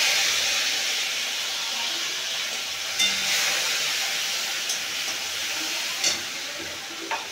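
Ground black cumin paste, about two spoonfuls, hits hot oil and gives off a loud, steady, close sizzling hiss with a few sharp pops and clinks over it.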